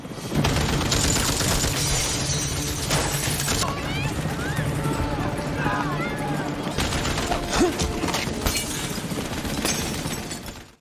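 Rapid bursts of gunfire from a helicopter in the film The Saint crackle and rattle loudly amid crashing, chaotic action noise, with talking voices mixed in.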